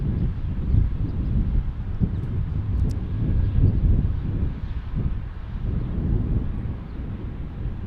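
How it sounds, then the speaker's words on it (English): Airbus A319 airliner taking off, a steady broad low roar with wind-like rumble, moderately loud and continuous throughout, no talk. "Got an Airbus"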